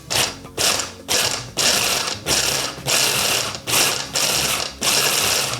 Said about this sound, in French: On va venir directement mixer le brie.